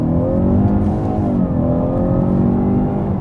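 Inside a 2015 Lincoln MKC in sport mode, the engine pulls under hard acceleration, its rising rev tones climbing steadily over a loud, continuous road and engine roar.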